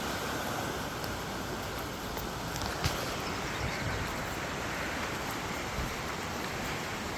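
Muddy flash flood water rushing through a creek, a broad continuous roar of turbulent flow, steady and full without pauses or voices.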